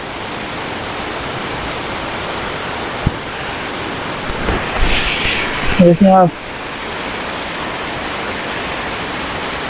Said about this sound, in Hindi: कितनी खूबसूरती के साथ पानी ये गिरा है।